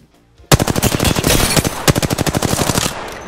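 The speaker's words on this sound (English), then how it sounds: "I am taking fire, friends" Rapid automatic gunfire from a machine gun in the video game Apex Legends, a loud sustained burst of evenly spaced shots lasting nearly three seconds, with a brief stutter midway and no talking.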